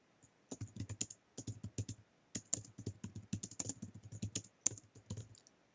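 Someone types on a computer keyboard in irregular bursts of crisp key clicks with short pauses, including repeated presses consistent with backspacing, close and fairly quiet with no voices.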